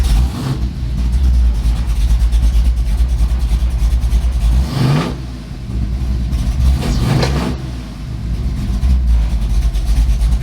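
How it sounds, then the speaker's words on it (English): A race truck engine runs loudly and close by, with a steady low idle rumble and a couple of brief revs rising and falling. No one speaks. "I'm gonna put the keys in, let it fire up."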